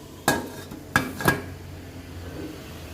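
A metal lid clatters onto a pot of sea bass steaming with soy sauce, three sharp clanks over a soft background simmer, fairly close and with no talking.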